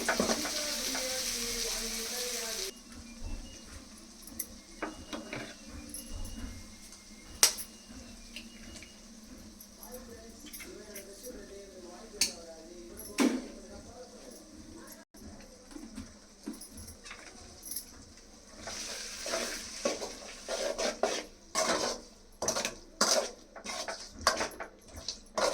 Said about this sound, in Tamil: நான் காயெல்லாம் வணக்கி விட்டு அப்புறமா முட்டை உடச்சி ஊற்றுறேன்.